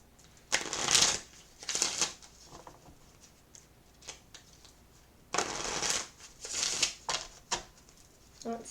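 Romance angel oracle cards being shuffled by hand in several bursts of crisp riffling and flicking, loud bursts separated by quieter pauses, with no talking.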